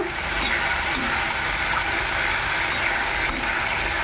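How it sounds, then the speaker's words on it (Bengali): Sliced onions and bay leaves frying in hot mustard oil: a steady, dense sizzle that runs unbroken throughout, close and fairly loud, with faint clicks of utensils now and then. "আর দিয়ে দিলাম এবার পেঁয়াজ আর তেজপাতা তো এগুলো একটু হালকা করে ভেজে নেব"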